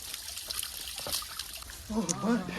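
Water flowing over old stone steps on Girnar mountain, a steady nearby trickle and splash with people talking over it.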